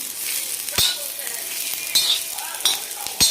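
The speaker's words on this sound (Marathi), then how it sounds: "हे सगळं साहित्य मी याच्यामध्ये टाकून घेणार आहे आणि याला आपण एक मिनिटभर फक्त परतून घेते" Browned onion and spices frying in a pan for mutton curry, a steady loud sizzle with sharp clinks of a spoon striking the pan every second or so.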